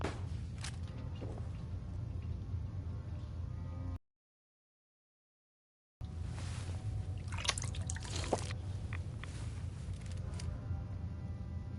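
A water trough in Fallout 4 survival mode gives off soft liquid trickling and dripping as water is drunk, faint and continuous, broken by a two-second silent gap.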